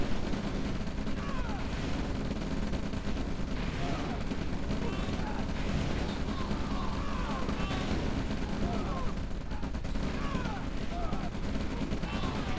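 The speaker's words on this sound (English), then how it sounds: "nice artillery shot there on the infantry" Artillery fire on infantry in the real-time strategy game OpenRA, during a King of the Hill tournament match. Steady, continuous battle noise carries rumbling shots and distant gunfire at a constant moderate level, with chirpy game effects scattered over it.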